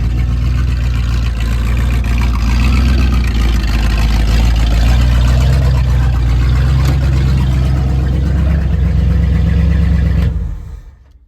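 Engine of a van-based wrecker running steadily, a loud, continuous low rumble that stays up close, then cuts off abruptly near the end, fuel system thought to have a sticking carburetor float.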